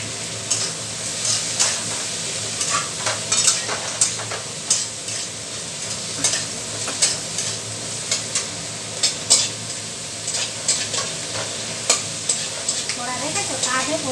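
Black cumin seeds frying in hot oil in a pan while being stirred: a continuous loud sizzle with repeated scraping stirs and crackling pops, close up, with no voices.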